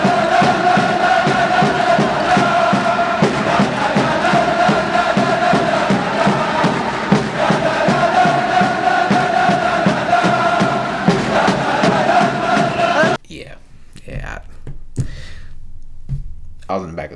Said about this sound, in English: played me a video, like 120p of the crowd at one of the basketball games in Libya